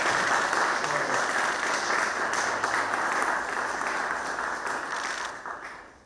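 Sustained applause from an audience inside a church in Nice during a visit by President Vahagn Khachaturyan, a dense, steady crowd of clapping that holds throughout and eases slightly at the end.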